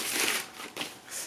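A vinyl LP record being opened from its plastic vinyl sleeve, with close, soft crinkling and rustling of the plastic in short bursts and no talk.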